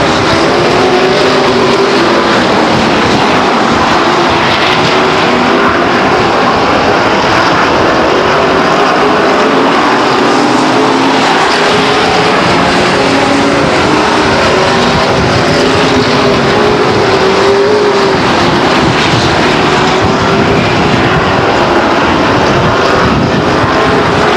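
Race cars circling Stockton 99 Speedway, a steady dense roar of engines that rises and falls as cars pass, with no talk over it.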